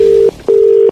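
Telephone tones sound while a number is dialed for a prank call: two long, loud steady beeps separated by a short gap, with no talking.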